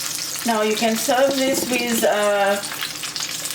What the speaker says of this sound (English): I'm on my last batch frying